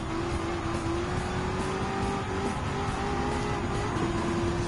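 In Gran Turismo 7, a supercar at full throttle after a pass, its engine a steady loud whine rising in pitch across the run, with faint other cars and tire noise beneath.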